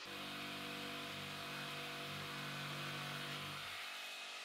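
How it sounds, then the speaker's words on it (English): Jigsaw cutting a notch in wood while building a woodworking assembly table, a steady loud buzzing motor and blade rasp that cuts out near the end. "This notch is easy enough to cut with a jigsaw"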